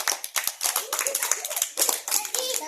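Schoolchildren clap in quick, uneven bursts at close range, with voices speaking over and between the claps.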